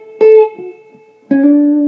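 Guitar playing an intro solo lick: two clear, loud plucked notes, each ringing and sustained, the second bending slightly in a short slide, with no talk over them.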